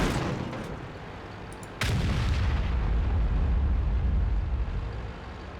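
A single heavy tank cannon shot in World of Tanks bursts out with a sharp boom, followed by a loud rumbling low engine drone that holds steady before fading slightly, no talking.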